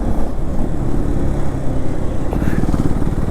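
A KTM Duke 390 motorcycle in track mode rumbles along, its engine loud and close with a choppy, pulsing note that rises into quicker revving near the end.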